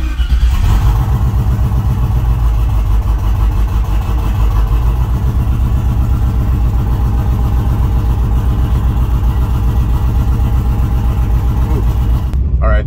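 A Camaro engine runs under a Terminator X engine controller, a steady loud rumble holding near idle for the whole stretch, with voices talking over it before it cuts off abruptly at the end.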